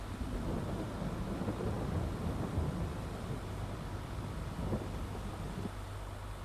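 Steady rain and rumbling thunder fill a stormy August evening on a farm in Farming Simulator's Westbridge Hills map, a dense continuous wash of falling water with low rolling booms and no voices.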